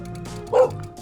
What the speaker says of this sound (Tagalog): Mutunog yung aso.